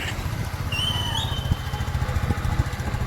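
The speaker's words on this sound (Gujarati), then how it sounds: "ચાલ્યા એક્ટિવા ઉપર બહાર ફરવા" A Honda Activa scooter engine putters steadily at a low idle, with a faint high whine drifting over it.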